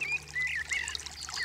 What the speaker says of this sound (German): dieses kleine Bächlein oder dieses kleine Bach entdeckt